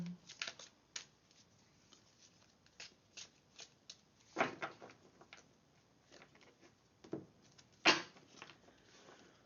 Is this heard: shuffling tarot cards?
yes